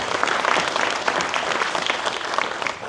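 An audience at a film Q&A for the 50th anniversary of The Texas Chainsaw Massacre claps steadily, a dense and fairly loud round of applause that holds evenly for the whole stretch.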